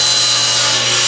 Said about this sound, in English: I can go ahead and form a nice flat edge on one side of this board at the joiner